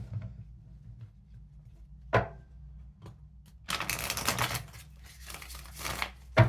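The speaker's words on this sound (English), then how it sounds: "Let's give a few shuffles." Tarot cards are shuffled by hand after a quiet stretch with a single sharp tap. A dense papery riffle and flutter follows in bursts, close and moderately loud.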